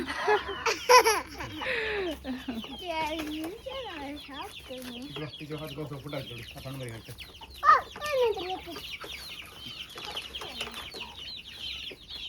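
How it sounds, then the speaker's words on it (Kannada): Chickens cluck and squawk close by, mixed with voices and bursts of laughter throughout. "ಇದು ಓಡಿ ಹೋಗ್ಕಿತ್ತ ಕೋಳಿ"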